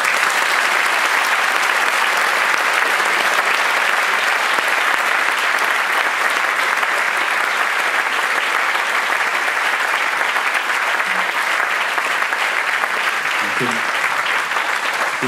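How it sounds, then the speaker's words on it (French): Sustained, dense applause for the team at an inauguration, many hands clapping evenly and loudly throughout, with a faint voice briefly audible near the end. "si on peut faire un applaudissement pour tous les gens de l'équipe"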